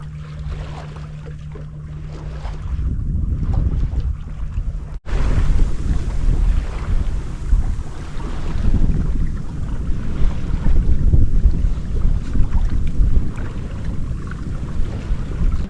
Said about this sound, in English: Little breeze has come in.